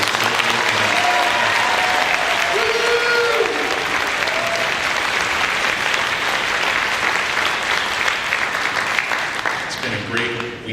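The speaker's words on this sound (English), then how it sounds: "So give a round of applause for this." Sustained, loud applause from a concert audience at a middle school symphonic band performance. The clapping stays dense and steady throughout, with a few held tones audible beneath it, and it begins to thin near the end.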